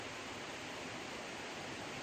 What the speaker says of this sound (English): all we can hear is this creek here running, and it just sounds beautiful